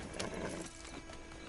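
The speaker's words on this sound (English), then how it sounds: "Get on the horse when you're ready." Horse hooves clip-clop faintly in Red Dead Redemption 2, a few quiet, soft hoof steps from a single horse heard alone.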